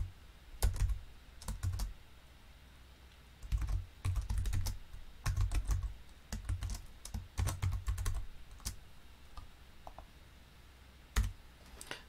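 Code is typed on a computer keyboard in quick bursts of close, crisp key clicks separated by short pauses, with a few lone taps toward the end and no talking.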